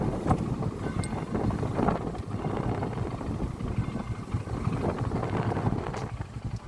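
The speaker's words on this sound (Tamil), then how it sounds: "பயங்கரமாக காற்று அடித்து கொண்டு இருக்குது." Strong wind gusts buffet the microphone at a temple on the island of Pungudutivu, a continuous loud rumbling roar with uneven surges throughout.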